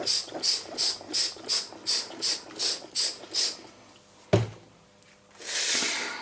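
Spray bottle misting bath bomb mixture, about ten quick rhythmic hissing sprays close up, a knock, then a longer fizzing hiss at the end.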